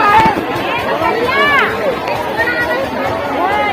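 A crowd at a Mahashivratri fair, with dense outdoor chatter and hubbub all around. A nearby voice talks over the murmur.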